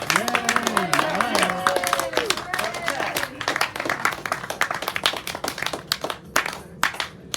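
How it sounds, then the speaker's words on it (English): A round of audience clapping at a late-night show, starting under a few voices and then continuing as dense, lively applause that thins toward the end. "round of applause for that"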